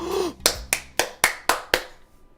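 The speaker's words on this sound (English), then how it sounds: "He claps me on the back" Six sharp, evenly spaced claps ring out close and loud, a hand-clap sound effect for a clap on the back in the Katawa Shoujo video game, with no talk.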